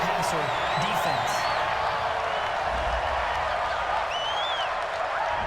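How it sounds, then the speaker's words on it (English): A stadium crowd at a Colts–Chargers NFL game reacts to a roughing-the-passer penalty with a sustained roar of boos and jeers, loud and continuous, while a commentator's voice runs over it. "this crowd does not like that call"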